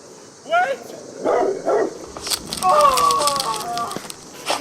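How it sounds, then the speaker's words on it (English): Several sharp dog barks ring out in quick bursts, fairly close, followed by a run of yelping and whining, with an excited voice speaking briefly in between. "Oh! Dogs!"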